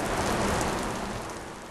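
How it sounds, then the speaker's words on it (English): Heavy rain pouring down on a football field and its stands, a dense, loud hiss that holds steady and eases slightly toward the end. "And on this day, she pours rain everywhere."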